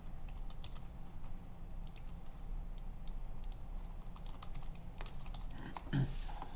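Someone types PHP code on a computer keyboard, a quiet steady patter of key clicks with uneven rhythm and a soft thump near the end.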